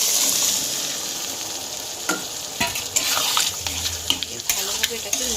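Boiled peas going into frying chana masala in a pan, with soft sizzling and wet stirring and scraping, occasional clinks of a spoon against the pan, close and moderate in level.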